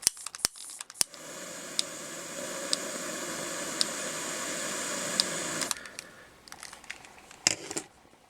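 Scissors trimming tube fly materials for a Baby Ostrich Spey fly, a sustained close rustling snip from about 1 to 5.7 seconds with a few sharp clicks, then scattered small taps and handling sounds.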